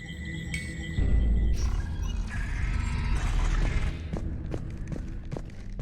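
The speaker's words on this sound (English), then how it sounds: "Very slow door opens onto another slow door." A slow sci-fi door grinds open in Mass Effect 3, a heavy low mechanical rumble with scraping and thuds, followed by sharper clanks and knocks toward the end, with no talking.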